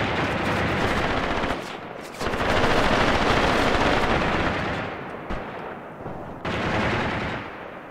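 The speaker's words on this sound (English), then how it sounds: "But these heavy machine guns are an issue" Heavy machine guns in a Graviteam Tactics battle hammer out sustained, dense bursts of automatic fire, loud and continuous with brief gaps, layered with distant gunfire across a wartime assault.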